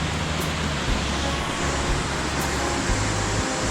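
Steady, dense roar of an Alpine waterfall near a mountain road, loud and unbroken throughout, with a low hum underneath and no talking.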